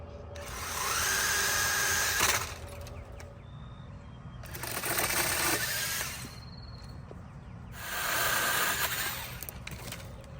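A battery chainsaw trims a tree outdoors, its motor whining in three bursts of about two seconds each, separated by quieter pauses, with birds faintly audible in the background.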